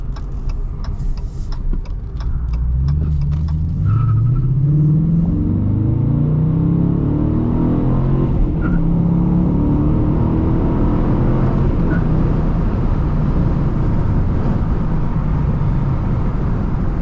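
A Dodge Challenger R/T with a six-speed manual gearbox, its engine revving and then pulling through a gear with a deep rising rumble, loud and continuous from inside the car, with no talking.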